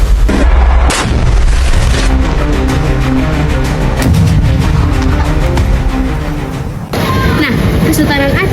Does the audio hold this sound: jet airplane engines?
no